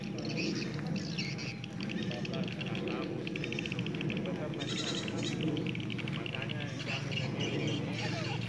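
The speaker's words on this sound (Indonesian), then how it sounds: "Nah, ini jenis-jenis kambingnya." Goats on a small semi-free-range goat farm in Indonesia, with bleats and patter rising over steady background noise throughout, and voices faintly present.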